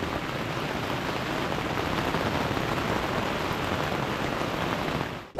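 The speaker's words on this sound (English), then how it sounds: "sleeping through the sound of the heavy rain" Heavy rain falls steadily in the Yatsugatake Mountains of Japan, a dense, even hiss that stays loud and unbroken, with no voices, before cutting off abruptly at the end.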